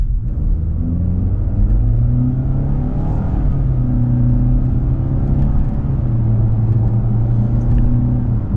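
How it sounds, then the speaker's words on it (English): A 2025 Nissan Altima SR AWD's engine rumbles loudly up close, rising in pitch as it accelerates through gears with a steady droning whir. "the car's got enough power to take off"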